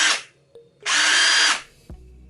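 A Ferrex 20V cordless impact drill from Aldi with a brushed motor runs in two close, loud bursts, a short spin then a longer one of about 0.7 seconds, with silence and a faint click between them.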